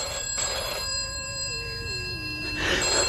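An old-fashioned telephone bell rings in a vintage radio horror drama, with two bursts of ringing a couple of seconds apart and faint background hum between them.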